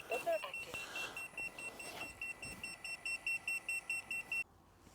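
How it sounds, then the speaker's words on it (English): Electronic beeping from FPV drone equipment on a 3-inch Kopis quad: a fast, regular train of short high-pitched beeps fairly close by, starting after a brief burst of other noise and cutting off abruptly near the end. "I don't like that beeping."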